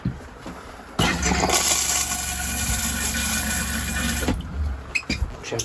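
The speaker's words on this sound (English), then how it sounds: "I'm gonna turn on the water." Water rushing into a new porcelain RV toilet as the supply is turned on, a loud, steady close-up gush lasting several seconds before tapering off with a few small clicks.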